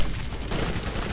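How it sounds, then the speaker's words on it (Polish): Explosions and gunfire from the video game Borderlands, a dense continuous barrage of blasts and shots filling the whole moment, loud and close with no break. "Za dużo eksplozji."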